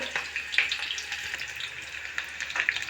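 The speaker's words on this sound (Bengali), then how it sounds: "চার টুকরা করা পেঁয়াজ এই দেখুন তেলের মধ্যে দিয়ে দিয়েছি" Onions sizzle in hot oil, a soft crackling hiss with scattered little pops, fairly quiet and steady, no voices.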